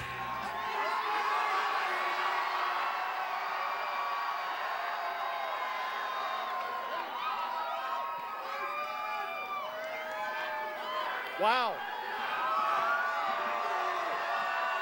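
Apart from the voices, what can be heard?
crowd cheering at a rally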